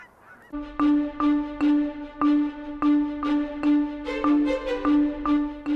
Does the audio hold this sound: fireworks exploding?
no